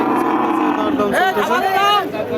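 A thin, bony cow at a cattle market lows in a drawn-out, wavering moo amid a noisy crowd of people talking nearby.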